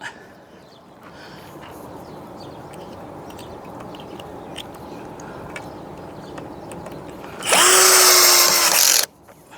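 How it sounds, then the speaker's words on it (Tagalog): A power drill whirs loudly for about two seconds near the end, during roof work on a house under construction, after a long stretch of quiet outdoor background with faint knocks. "itong barena."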